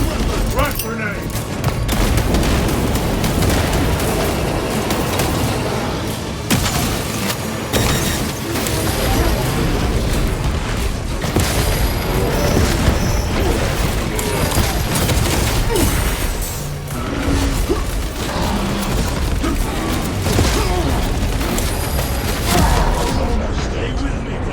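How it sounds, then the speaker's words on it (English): Frag grenade explosions and heavy combat in the video game Space Marine 2: dense, continuous booms and rapid gunfire throughout, loud and close, with voices speaking over the battle. "Frag grenade."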